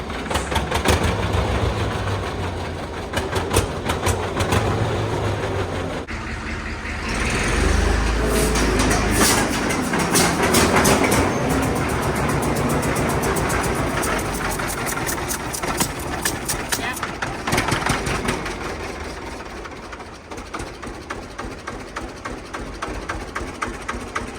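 An 82-year-old John Deere model AR tractor engine runs steadily and loudly throughout, with a rough, knocking idle whose pitch and intensity shift as it surges and settles.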